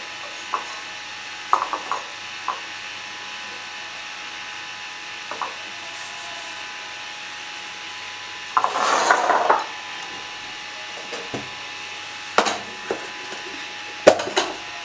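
Sooji (semolina) biscuit dough being rolled out thin like chapati on a floured surface, heard as faint, intermittent wooden rubbing and scraping strokes with pauses between them, with no talking.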